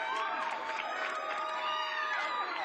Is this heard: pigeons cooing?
no